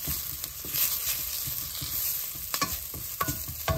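Turmeric and salt sizzling in a hot pan while being stirred, a steady close frying hiss with scraping stir strokes and a few sharper clacks toward the end.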